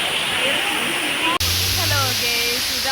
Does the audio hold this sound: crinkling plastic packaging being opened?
no